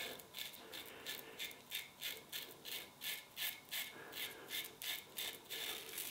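A Gillette Black Tip safety razor scrapes through whiskers over LEA Classic shaving cream, a close, faint, rasping sound of repeated short strokes in a steady rhythm, with no talking.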